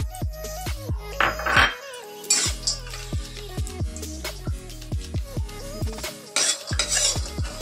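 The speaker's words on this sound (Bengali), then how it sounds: "ড্রাই ফ্রুটগুলো আমি এবার রোস্ট করে নেব কিছুটা।" Dry fruits and nuts being roasted in a pan for biscuit modak filling, with repeated sharp metal spoon scrapes and clinks against the pan in an irregular stirring rhythm, close and fairly loud.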